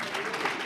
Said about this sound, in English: Please give yourselves a hand.